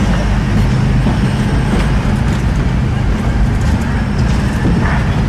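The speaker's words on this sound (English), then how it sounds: "we do ask everyone to please remain fully seated at all times while the train is in motion" A Disneyland Railroad train rolls along with a loud, steady rumble and low mechanical roar that carries through the whole stretch, with no voices over it.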